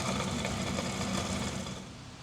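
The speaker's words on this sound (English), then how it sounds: "it took about an hour to bandsaw this piece out" A bandsaw hums and buzzes steadily while slowly cutting a thick piece for a 231 doubler box, a close, continuous mechanical whine that eases off slightly toward the end, with no talking.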